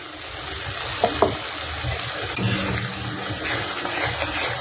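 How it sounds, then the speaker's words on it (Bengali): Spices with Kashmiri chilli powder frying in a pan as a little water goes in, a steady close sizzle with a couple of light utensil knocks and a swelling hiss. "এগুলো ধুয়ে আমি সামান্য একটু জল দিয়ে দিচ্ছি।"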